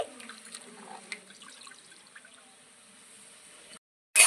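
Soya chunks being rinsed by hand in water, with soft splashing, trickling and dripping sounds close by for several seconds, then a brief silence and a sudden loud burst at the end.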